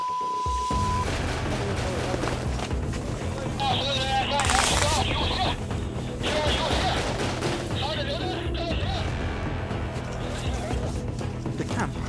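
Heavy gunfire crackles in dense, continuous bursts, loud and close, with rumbling booms and shouting voices mixed in throughout.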